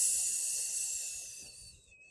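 A long, slow exhalation released as a steady breathy hiss, close and soft, fading away gradually over a couple of seconds.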